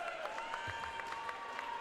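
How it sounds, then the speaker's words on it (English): Tornadoes supporters cheer and clap at a Legal & General Finals 2019 semi-final against Trojans, a sustained crowd roar with rhythmic applause and whistles, heard from a distance throughout. "it sounds as though the Tornadoes fans are in really good voice"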